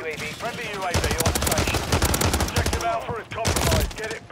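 Bursts of rapid Sidewinder gunfire from Call of Duty Modern Warfare III, loud and close, in several fast strings separated by brief pauses, with game effects and voices talking mixed in.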